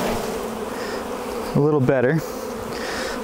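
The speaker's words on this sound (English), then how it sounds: "So I'm just going to shake the bees off of this so you can see it" Honey bees hum in a steady, dense buzz as they are shaken off a frame from a spring hive, and a person speaks briefly over the swarm noise.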